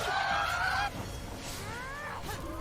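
Sound from the video game Lacuna: a goose-like honking call from a chicken, one long squawk then a shorter rising one over steady game background noise.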